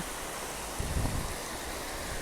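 River water flowing steadily toward large towns, an even broadband rush close by, with a brief low thump partway through and no voices.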